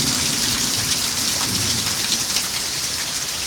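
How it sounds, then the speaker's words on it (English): Heavy rain pours down in a dense, constant roar, with no voices. "It didn't just rain,"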